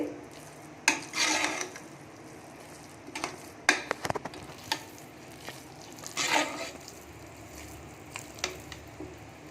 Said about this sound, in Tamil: இப்போ இதை கிளறிக்கலாங்க